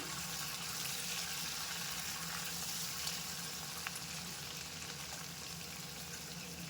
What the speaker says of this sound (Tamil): இதை நல்லா ஃப்ரை பண்ணி எடுத்துக்கலாம்